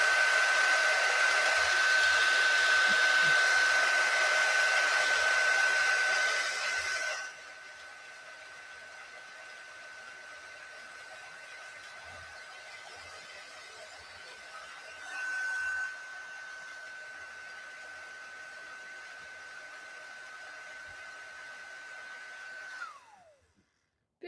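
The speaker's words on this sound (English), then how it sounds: "Beautiful heat embossing." An embossing heat tool blows a steady, loud whine with a rushing hiss for several seconds while a greeting card is heat embossed, then drops to a quieter hum that keeps running and winds down near the end.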